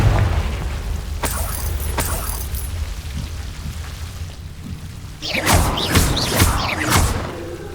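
Confringo fire spell blasts in Hogwarts Legacy, a few sharp bursts early on, then a louder cluster of crackling, whooshing impacts over a low rumbling game backdrop.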